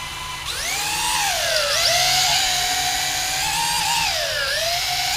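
A small JJRC H26WH quadcopter drone spins up and lifts off, its close, loud, high-pitched motor whine rising sharply and then wavering steadily in pitch as it hovers.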